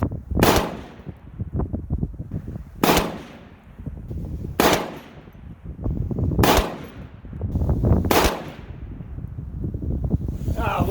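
Five sharp, loud rifle shots from a PSA 6.5 Grendel, fired at even intervals of about two seconds outdoors, with wind buffeting the microphone between reports.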